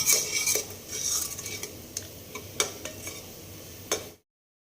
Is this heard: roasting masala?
yes